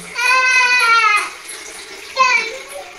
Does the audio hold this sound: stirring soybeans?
no